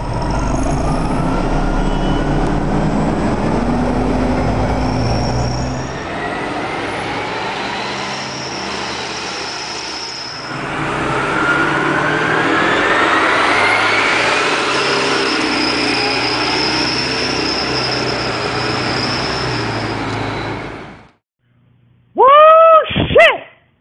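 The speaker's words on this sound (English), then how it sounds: "That ringing pipe is off the hook, even though the 1998 and 99 Orion 5s from MTA bus rang louder." An Orion 5 transit bus with a Detroit Diesel Series 50G engine drones loudly for about twenty seconds, a high ringing tone from its exhaust pipe rising above it, then falls quiet before a brief voice.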